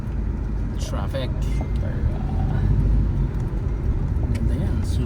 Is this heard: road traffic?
yes